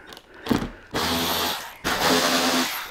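A power tool, ratchet-like, backs out motorcycle fairing screws in two loud sustained whirring runs, each about a second long, close by, with a short gap and clicks between them.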